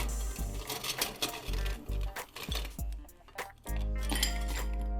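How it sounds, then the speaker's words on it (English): Large ice pieces clatter and clink into a glass while a Malibu Sunrise cocktail is prepared, a run of close, bright knocks and rattles that settles into quieter clinks with no talking. "First we're going to fill a glass with ice."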